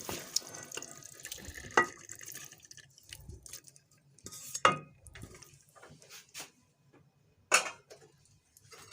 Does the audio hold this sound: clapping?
no